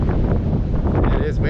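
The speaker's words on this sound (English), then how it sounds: "It is windy here too" Steady, loud wind buffeting the microphone on a hillside hike along the Strait of Juan de Fuca, a constant roaring rush with no pauses.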